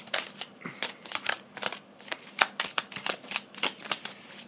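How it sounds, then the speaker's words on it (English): Small tarot cards being shuffled by hand, a run of quick papery riffles and slaps in uneven bursts, close and crisp with no talking. "I feel like a giant shuffling these tiny cards"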